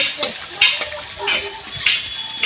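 Onions sizzle steadily in hot oil while a spatula stirs and scrapes the pan at irregular intervals, close and fairly loud.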